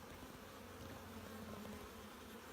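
Honey bees swarm and buzz over an open beehive frame during an inspection, a dense continuous drone that stays quiet but even from start to finish.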